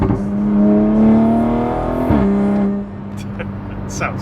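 Toyota Supra with an aftermarket exhaust, valve unplugged, revving hard: a loud, steady harmonic engine drone climbing in pitch, a sharp blip near the middle, then settling to a lower idle rumble with some background noise.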